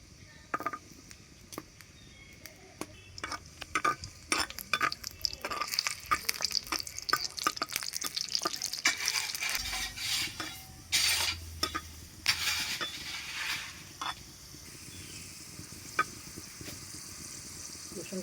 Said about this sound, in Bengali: রসুনটা আমি লাল করে ভেজে নেব।